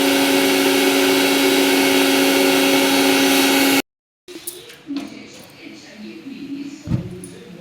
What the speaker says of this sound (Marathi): आता मिक्सरचं झाकण बंद करते आणि आता दळून घेते मसाला.